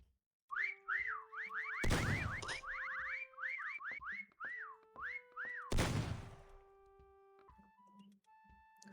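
Whistling in the video game Meccha Chameleon: a rapid run of rising-and-falling whistle notes repeats, cut by two loud bursts, then softer tones trail off at the end.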